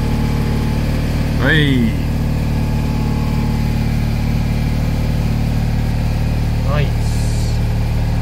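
A Citroen 2CV idling after a cold start, heard as a steady, loud, low engine drone throughout while people speak briefly over it.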